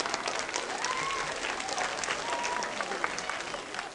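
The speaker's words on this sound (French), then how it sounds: "des applaudissements" Applause after a child's cartwheel, likely at a gym, a steady wash of many clapping hands in a noisy hall, moderately distant, with faint chatter and a thin whistle-like tone over it.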